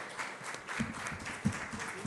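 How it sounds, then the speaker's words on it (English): Audience applause at an Indian IT minister's closing press briefing for an AI summit, fairly faint, scattered clapping from a crowd in a large room, with a few sharper individual claps standing out. "big round of applause for the organizing team"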